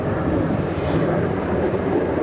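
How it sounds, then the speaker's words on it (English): An F-16 Block 60 fighter jet makes a fast pass at an air show with a loud, steady engine roar that fills the whole stretch without fading. "ومرور سريع الآن لهذه الطائرة"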